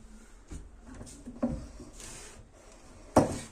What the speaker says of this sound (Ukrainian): Також на тіпонах висувний вішак.